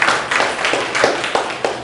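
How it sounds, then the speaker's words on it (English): A short burst of applause in a classroom setting, several hands clapping in uneven bursts close by, fading and picking up again over about two seconds. "Give her a round of applause, please."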